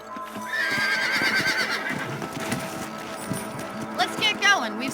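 A horse in the video game Red Dead Redemption whinnies and snorts over a run of clip-clopping hooves, with voices talking underneath and a second neigh near the end.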